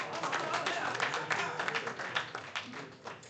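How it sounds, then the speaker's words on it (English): Audience applause at a national event for the ITServe Alliance, a dense steady wash of clapping from a crowd that fills the whole short stretch with a faint voice mixed in. "a round of applause, please, for Brooklyn."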